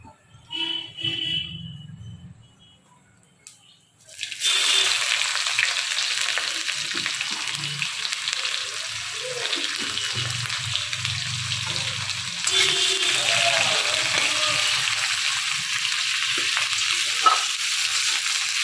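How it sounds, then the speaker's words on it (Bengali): Onions fry in hot oil for a homemade tomato chutney. A loud, steady sizzle bursts in after a few quiet seconds and carries on with stirring scrapes, with no talk over it. "পেঁয়াজটা একটুখানি ভাজা ভাজা হতেই যা সুন্দর গন্ধ বেরিয়েছে না"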